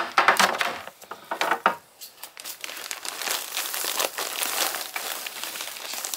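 Crinkling and rustling of a Ziploc plastic bag as freeze-dried shrimp are dropped in, with light clinks, close and moderately loud at first and then softer, steady rustling.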